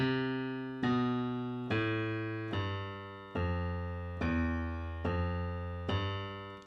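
Eight low piano notes of a bass line struck one after another at an even, unhurried pace, each ringing out and decaying before the next, alone with no talking.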